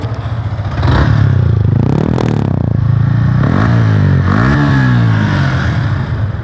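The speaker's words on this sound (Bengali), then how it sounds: "আপনারা সাইলেন্সারের সাউন্ডটা শুনতে পাচ্ছেন" A Yamaha R15 V3 motorcycle exhaust revs up loudly several times, the engine note climbing and falling between throttle blips, close by with no talking.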